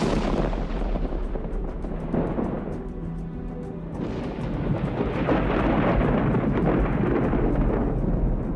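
Rain pours steadily in a humid rainforest while deep rolling thunder rumbles through, strongest near the start and again after a brief lull, with heavy rainfall continuing loudly to the end.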